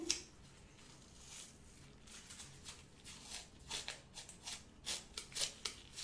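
Scissors snip through a piece of bandage in a close, quiet series of short crisp cuts with soft rustling between them, and no talking underneath.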